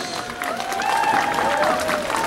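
Crowd at a high school football senior night applauding the senior Lakeview Bulldog cheerleaders, a steady wash of clapping and cheering in an outdoor stadium, with a tonal sound rising over it midway.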